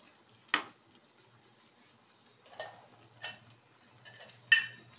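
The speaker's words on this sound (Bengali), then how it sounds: "নাড়াচাড়া করে নেব।" A spoon scrapes and clinks against a pan while tomato sauce for dragon chicken is stirred, four sharp separate taps over a quiet background hum.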